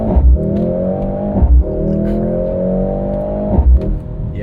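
A Mercedes-AMG GLC 63 S E Performance with a 2-liter four-cylinder engine revving up in three rising pulls separated by short shifts, loud and close, with no talk.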